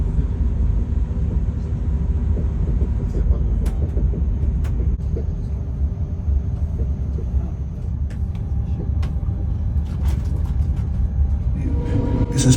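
A steady low rumble of a train running, with continuous mechanical noise and occasional faint clicks and squeaks throughout.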